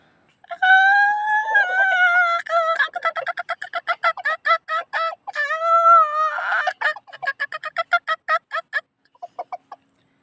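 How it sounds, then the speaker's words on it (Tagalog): A rooster crows loudly and close by, one long drawn-out call that breaks into a rapid series of short, choppy clucks. "Pagmasdan mo yung tilaok, pagmasdan yung tilaok"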